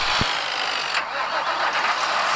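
A small toy tractor engine starts up and keeps running with a steady, buzzing mechanical whir, close and fairly loud, during a small-tractor power challenge.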